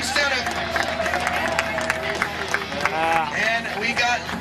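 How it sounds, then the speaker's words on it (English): Crowd at a skateboarding legends event cheering and clapping in a noisy stretch of babble, with a voice over a loudspeaker talking throughout. "Give it up for Steve Stedham."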